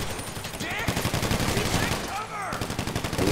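Dense, continuous gunfire in GTA Online, rapid automatic bursts rattling without pause across the whole stretch, with a voice speaking German over it.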